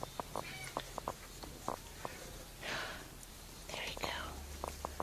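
Colour point cat with a black tail gives a couple of soft meows among quiet rustles and clicks, heard up close while a person whispers nearby.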